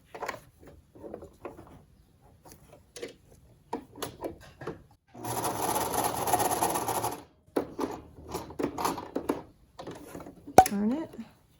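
A sewing machine runs in one steady burst of stitching along the edge of a children's cloth face mask with ribbon ties. Quiet handling noises and speech come before and after it.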